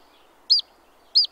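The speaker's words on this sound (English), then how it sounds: "This is the sound of a pygmy nuthatch in the redwood forest." A pygmy nuthatch in a redwood forest gives two short, high chirping calls spaced about half a second apart, clear and fairly close against a quiet background.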